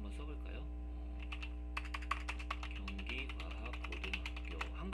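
Rapid, close keystrokes clatter on a computer keyboard in a quiet room while Korean text is typed, the taps coming in quick uneven bursts over a low steady hum.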